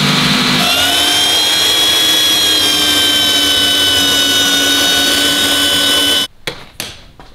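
A power tool saws through a metal part for an electric power steering bracket on an RS4 sedan build, a continuous loud whining cut with steady high tones that stops abruptly near the end, followed by a couple of short knocks.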